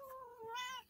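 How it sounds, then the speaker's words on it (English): A single drawn-out cat meow, close and fairly loud, rising and wavering over just under a second with no talking. "Sorry about my cat."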